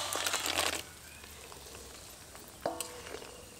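Fried bori lentil dumplings go into a pan of boiling water for bori posto: a short rush of bubbling hiss up front, then a quieter simmer, with a brief splash and stirring clatter near the end.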